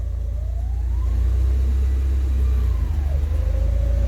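A car engine revs steadily once warmed up, with a high gearbox whine that climbs, holds, then dips and settles over a constant low rumble, close and fairly loud.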